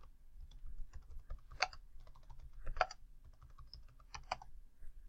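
Someone types on a computer keyboard, quiet scattered key clicks with a few sharper clusters of taps, close and alone with no speech.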